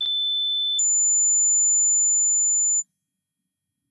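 A pure electronic test tone steps upward in pitch, ending on a very high 14,080 Hz sine tone, steady and alone for several seconds with no voices.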